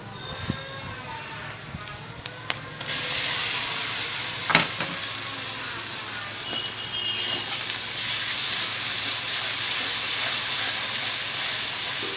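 A paste of ginger, garlic, cumin, coriander and dry and green chili hits a hot pan and sizzles loudly, a steady bright frying hiss that carries on with a few clinks of stirring.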